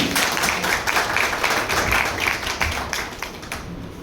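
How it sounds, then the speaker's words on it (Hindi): Dense audience applause at a seminar gathering, a sustained wash of many hands clapping together, loud and continuous for a few seconds before tapering slightly. "जोरदार तालियां मैडम के लिए।"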